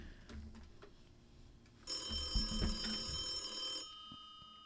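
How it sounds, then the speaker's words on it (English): A phone rings with a bright electronic trill that starts partway through and sustains for about two seconds before stopping, over quiet room background and a few soft knocks. "Is my phone ringing?"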